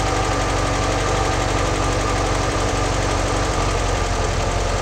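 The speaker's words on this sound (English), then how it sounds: "Definitely the idle's dropping." A Porsche 356 engine idling steadily and loud with a rough, knocking pulse as a Zenith carburetor mixture screw is tightened, its idle sagging slightly, with no voices.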